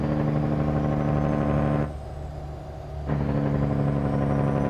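Heavy truck engine from an International 4700 in American Truck Simulator, hauling cattle: a steady loud diesel drone with rising whine that briefly drops off, as if shifting gears, then resumes accelerating.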